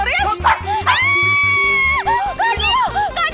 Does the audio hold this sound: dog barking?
yes